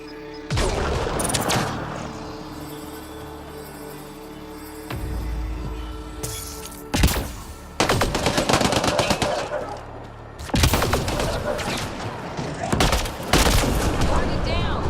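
Bursts of automatic gunfire and heavy blasts erupt in a Mass Effect: Andromeda firefight on planet Voeld, coming in several loud volleys separated by quieter gaps, with occasional voices in between.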